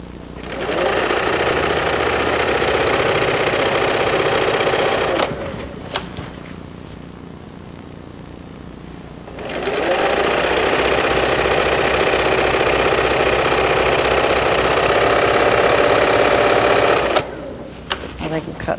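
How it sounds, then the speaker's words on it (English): A sewing machine stitching and feeding fabric runs in two loud, steady whirring bursts with a quiet pause between them and a brief stop near the end. "Your machine does the easing for you because the feed pushes the fabric on ahead."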